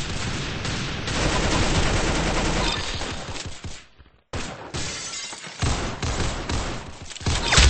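Dense rapid gunfire and shattering bursts from a shooter video game fill the scene almost continuously, with a brief silent gap midway before the loud volleys resume.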